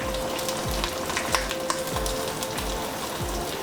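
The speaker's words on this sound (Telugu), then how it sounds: "ఫ్రై చేసుకుందాం." Mustard seeds, cumin and dried red chillies fry in hot oil with a loud, continuous sizzle and crackle, and a few sharper pops, with no talk.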